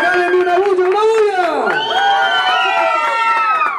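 Guests at a quinceañera with a mariachi band cheer loudly and close by, with overlapping high whoops and shouts that sweep up and down, then a sustained clamour.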